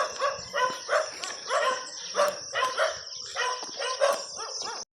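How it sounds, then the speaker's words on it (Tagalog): Several dogs bark repeatedly at dawn outdoors, a steady run of moderately distant barks with insects chirping faintly underneath, no talking. "maingay yung mga aso"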